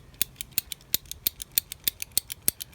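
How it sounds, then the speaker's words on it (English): Ratcheting PVC pipe cutter clicking closed in a quick, steady series of about fifteen sharp metallic ratchet snaps, close and fairly quiet, with no voices. "This is a pipe cutter."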